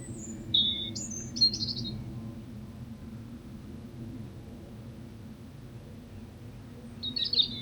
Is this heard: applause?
no